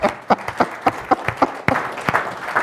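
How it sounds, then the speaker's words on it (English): Applause from a modest audience at a project management chapter meeting, a ragged patter of individual claps ringing out close by for under three seconds without any talk. "Please let's give Kat and Mike a round of applause."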